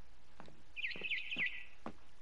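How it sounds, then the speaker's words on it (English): Barn swallow chirping outside a window in the game What Remains of Edith Finch: a quick run of bright, high twittering notes mixed with a few short clicks, moderately close and alone, with no speech. "Then I heard chirping outside my window."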